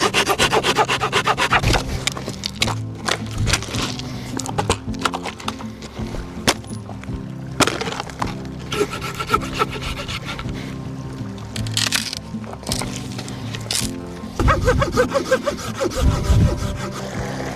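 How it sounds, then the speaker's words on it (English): A hand saw rasps through tough, hard-to-cut gathered wood for a campfire at an alpine lake, with close, rhythmic strokes broken by short pauses and knocks. "I don't know what kind of wood this is, but it does not want to cut and it does not want to break."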